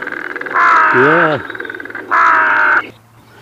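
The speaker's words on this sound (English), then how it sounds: "Big black crow." Black crow cawing in open horse fields, two loud harsh drawn-out caws close by, a voice briefly speaking between them.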